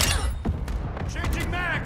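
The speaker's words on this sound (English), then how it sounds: "Mortar strike inbound." A mortar strike explosion in the video game Modern Warfare 2 multiplayer, a loud booming impact with debris crackle, dense and close, amid busy in-game battle noise.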